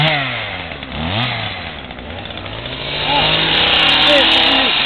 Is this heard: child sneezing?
no